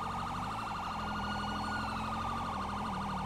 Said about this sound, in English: Hey, you like the sirens?